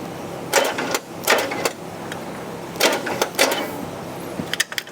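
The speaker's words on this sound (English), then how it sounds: "put a little downward pressure on this distributor, bump it one time until it seats down inside those gears" An engine starter is bumped in short bursts on an old scrapyard Squarebody truck while the distributor is being seated, several brief whirring cranks spaced a second or two apart, close and fairly loud.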